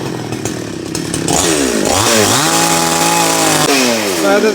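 A chainsaw cuts into a coconut palm trunk, loud and close, its engine rising from a rough idle into a high, wavering whine as the chain bites and revs repeatedly through the wood.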